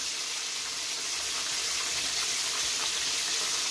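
Water runs steadily into a cooking pot, a close, continuous splashing pour without any voices.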